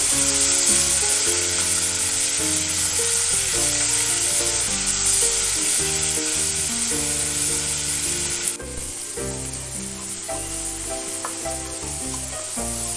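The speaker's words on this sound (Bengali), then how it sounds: "দিয়ে সবগুলো ভেজে নেব" Vegetables with capsicum fry in a pan for chicken fried rice, a continuous, hissing sizzle that stays loud and steady throughout, with a slight drop partway through and no voices.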